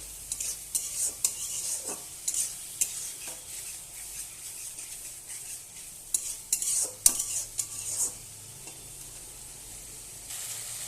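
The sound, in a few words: stir-frying prawns in spice masala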